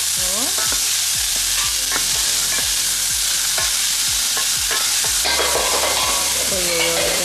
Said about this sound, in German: Dann Karotten, dann Zwiebeln, Knoblauch. Das wird jetzt alles angebraten.